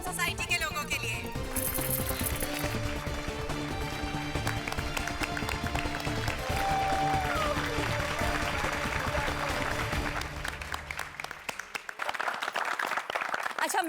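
Loud, dense applause from a crowd honouring the residents of Gokuldham Society in a comedy TV episode, sustained clapping with a busy background that drops out briefly near the end.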